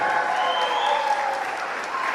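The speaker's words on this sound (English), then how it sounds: "Can I get a round of applause for Nidhi?" A wedding reception crowd applauds the bride, a brief burst of close, dense clapping with a few cheers mixed in, steady for about two seconds.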